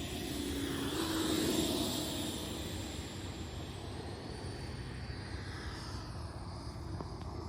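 Heavy FMS Avanti 90mm electric ducted-fan RC jet with thrust vectoring flying slow and low with full flaps, a steady whooshing whine that swells as it passes close and then fades.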